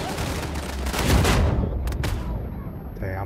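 Shotgun fire in Uncharted 4 multiplayer, with a loud, rumbling blast that swells and then settles, followed by two sharp reports and a faint tail.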